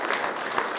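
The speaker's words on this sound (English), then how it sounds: "So if you could all join me in a round of applause for all of them that are here today." Applause from the audience at a legislators' coffee meeting, a short burst of dense, even clapping from many hands in an indoor room.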